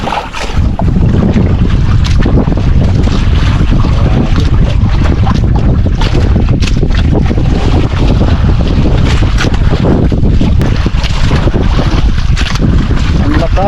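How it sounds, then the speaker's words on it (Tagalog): Small motor boat (bangka) running at sea in a strong current, with a constant loud engine drone under heavy wind buffeting on the microphone and splashing water throughout. "parang maandar yung bangka"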